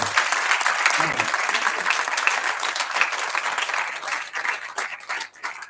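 Audience applause at a Hindi poetry gathering, a sustained wash of many hands clapping that thins into scattered claps at the close, with voices mixed in.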